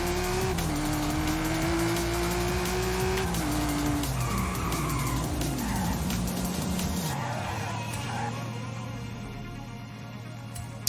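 A car in the racing game Forza Horizon 5 drives at speed, engine droning steadily with a pitch shift, then tires skid and squeal as the engine note drops and fades slightly toward the end.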